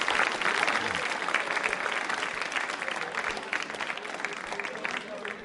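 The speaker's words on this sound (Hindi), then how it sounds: "तालियां बजाइए अपनी जानकारी के लिए" Sustained, dense applause from a large audience at a school quiz show, a steady even wash of clapping throughout with voices faintly mixed in.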